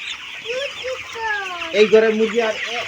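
Chickens in a poultry shed cluck and croon close by in overlapping, rising calls, with a voice talking in the background.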